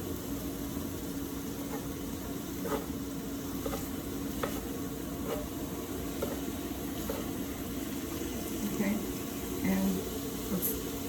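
Chopped chunks of meat sizzle steadily in a pan for lasagna, a continuous crackling hiss with occasional stirring scrapes, close and moderately loud, with a voice speaking briefly over it.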